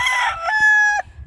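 A backyard rooster gives one short, loud, close crow, a bright tonal call that ends abruptly after about a second.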